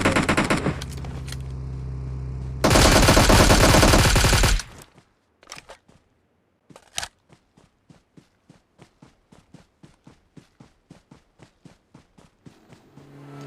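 MK14 rifle in a mobile battle-royale shooter game firing a loud sustained full-auto burst, then a steady rhythm of single sharp shots spaced evenly apart, with no talk.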